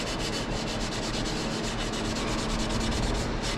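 Steady, continuous sanding of a hand-carved wooden axe handle, an even, dense abrasive rubbing that runs unbroken at close range with no pauses or talk.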